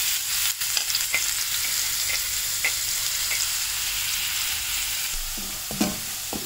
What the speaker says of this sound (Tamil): இந்த வெங்காயம் நல்லா வதங்கணுங்க